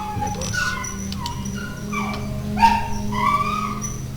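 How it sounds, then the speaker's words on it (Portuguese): A dog whines and whimpers because it needs to go outside, making a string of high, rising and falling cries with short yips over a low steady background hum. "o cachorro tá precisando sair."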